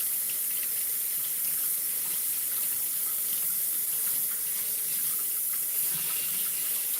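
Tap water running steadily into a sink while washed thrift items are rinsed, a constant hissing splash, close and unbroken throughout with no voices.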